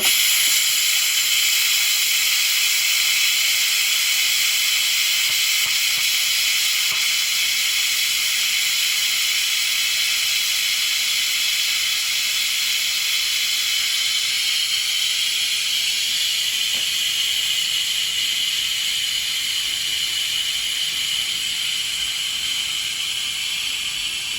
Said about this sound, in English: I'm doing a quick steam release because I want to get in there.